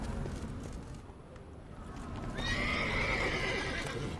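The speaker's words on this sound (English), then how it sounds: "Why is there a horse here?" A horse in The Witcher 3 video game gives a loud, drawn-out neigh over a rumbling bed of hooves and ambient game noise, the whinny rising near the end.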